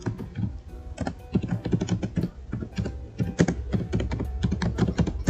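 Typing on a computer keyboard, a fast, uneven stream of close key clicks and heavier thumps, steady throughout with no talking.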